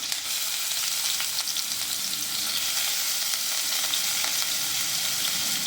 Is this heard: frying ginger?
yes